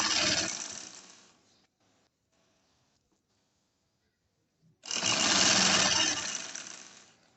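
A sewing machine runs single-stitch seams while lace is attached to a dupatta: a loud steady whirring burst, a pause of near silence, then a second equally loud run.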